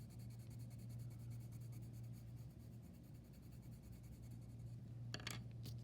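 Colored pencil shading gray on paper, layering white and black for a monochromatic drawing; a steady, close, soft scratchy rubbing continues throughout with no talk, ending in a few brighter strokes.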